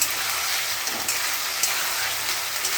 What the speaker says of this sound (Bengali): কষে নিচ্ছি।